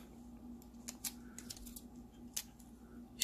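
AAA battery packaging is cracked open, giving faint, scattered sharp snaps and crinkly plastic clicks in a quiet room.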